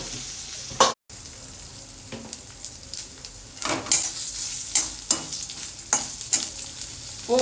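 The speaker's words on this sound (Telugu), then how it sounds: "పోపు చిటపట్లాడాక" A tempering of mustard seeds, urad dal, chana dal and dried red chillies sizzles and crackles steadily in hot oil in a pan, with a spoon stirring and scraping against the metal at intervals, close and continuous.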